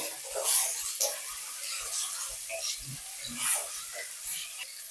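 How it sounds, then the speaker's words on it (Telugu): Bitter gourd pieces fry in hot oil with a steady high sizzle throughout, broken by occasional soft bumps and stirring clatter close by. "ఆయిల్ వేడవ్వడానికి పెట్టా, అందులో వేసిస్తున్నా. ఇప్పుడు దీన్ని చక్కగా ఫ్రై చేసుకోవడమే."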